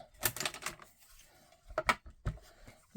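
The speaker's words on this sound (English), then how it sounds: "Let's die cut it out." Manual die-cutting machine for paper crafting cranking a die and plates through: clustered mechanical clicks and ratcheting rattles in two short bursts separated by a quiet gap, close by.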